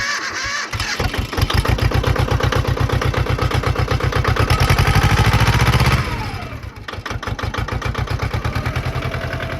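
A 7.3 Powerstroke diesel engine in a four-wheel-drive truck idles in neutral, a loud, steady rhythmic clatter close by that dips briefly in level partway through, with no talking.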